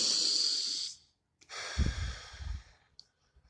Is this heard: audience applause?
no